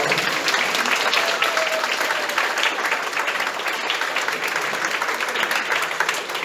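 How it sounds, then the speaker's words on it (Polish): An audience at a Rubik's cube competition applauds in a steady, dense burst of clapping that stays loud and even throughout, with no speech over it. "Wielkie brawa dla Przemka Rogalskiego"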